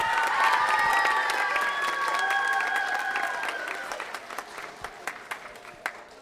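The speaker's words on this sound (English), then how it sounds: "let's give a round of applause to JC Wallace" An audience at a school spring band concert applauds, the full clapping fading into scattered claps, with cheering and whistles on top at first.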